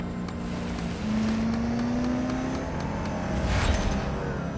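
Koenigsegg Agera RS engine in the racing game Real Racing 3, a steady droning roar with a rising whine as it accelerates, continuous and moderately loud, with no talk.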